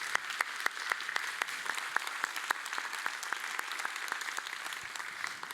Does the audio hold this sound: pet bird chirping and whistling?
no